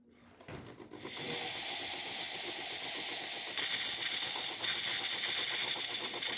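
A loud, steady hiss of steam bursts from the hot water wand of a DeLonghi Magnifica ESAM espresso machine after a faint click and continues without pause, close by and with no voices.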